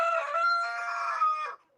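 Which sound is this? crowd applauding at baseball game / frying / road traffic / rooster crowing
rooster crowing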